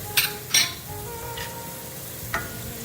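Garlic cloves hitting a hot pan of onions, a steady close sizzle broken by a few sharp clatters of stirring and utensil scrapes, with no talking.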